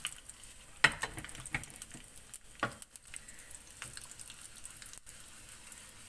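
Mustard seeds, cumin seeds, chana dal and urad dal sizzle in a teaspoon of hot oil in a pan, a soft steady crackle with scattered sharper pops and faint stirring, no voices.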